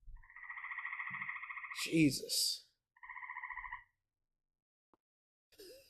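Frogs croak outside in the countryside in two bursts of rapid, pulsing trills, close and clear. A man's brief exclamation and other sounds fall between the calls.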